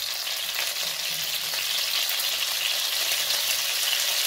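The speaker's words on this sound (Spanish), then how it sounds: "Cuando esté caliente vamos a echar el pollo" Pieces of chicken sizzle in a hot pan, seasoned with salt, for a chicken and vegetable rice dish: a dense, even, close-up frying hiss that holds steady for a few seconds.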